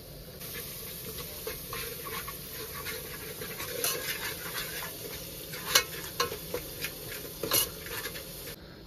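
A pot of potato curry (batatyachi amti) cooking outdoors while being stirred, with a continuous hiss and bubbling sizzle and a series of metallic scrapes and clinks that grow more frequent toward the end.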